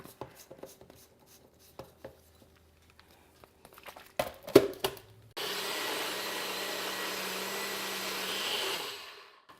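A blender mixes an acai bowl with stevia vanilla drops, starting after a few clicks and taps as the lid goes on, then running as a loud, steady motor whir for several seconds before winding down.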